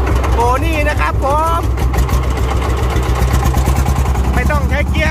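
Small single-cylinder engine of a Thai e-taen farm vehicle fitted with a mill, idling in a steady low throb throughout, with people talking over it in rural Phitsanulok.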